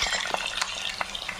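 Eggs deep frying in hot oil give a dense, continuous sizzle with crackling pops, close and loud, with no voices.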